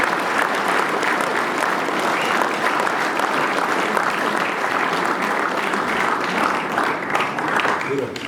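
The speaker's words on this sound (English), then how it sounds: "So boys, if you could please put your hands together for our staff that have worked so hard for you." A hall full of schoolboys applauds the school staff, producing loud, sustained clapping that stays even throughout without letting up.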